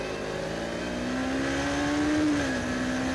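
A Suzuki GW 250 Inazuma motorcycle engine revs steadily, a smooth rising and falling drone held close and loud for a few seconds, with no talking.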